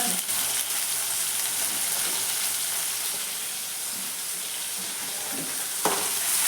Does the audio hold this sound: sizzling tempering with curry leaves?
yes